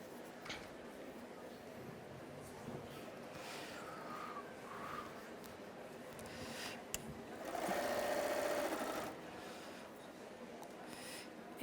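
A sewing machine stitches a patchwork border in a quiet room, running in a faint, short whirring burst amid soft handling noises.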